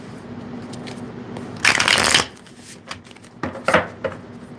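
Tarot cards riffle in a couple of crisp shuffling bursts, close by, separated by quieter handling sounds.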